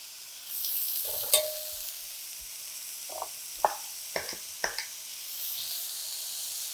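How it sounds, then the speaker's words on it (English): Vegan butter sizzles steadily in a hot pan with vegan seafood, a soft continuous hiss broken by a few sharp clinks of a utensil against the pan. "I'm gonna hit it with a touch of butter, vegan butter."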